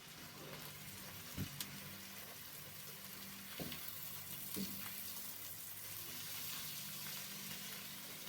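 Garlic scapes sizzle steadily while frying in a pan, a continuous hiss broken by a few sharp knocks and scrapes of stirring, close and at moderate level with no talking.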